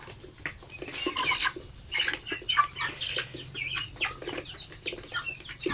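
Native chickens on a farm, kept as breeding hens, cluck and chirp in scattered bursts at close range over a steady low hum, with no talking.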